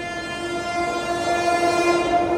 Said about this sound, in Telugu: మన ట్రైన్ ఏదో ట్రైన్ ఓవర్టేక్ చేస్తుంది అనుకుంటున్నాను. ఎస్, శబ్దం అయితే వినిపిస్తుంది నాకు.